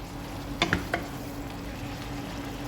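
Bok choy stirred in a frying pan: quiet steady sizzle with a few brief scraping clatters of the utensil against the pan, then settling back to a soft fry.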